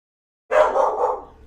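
A single dog bark or yelp bursts out after a short silence and trails off over about a second, fairly close and loud.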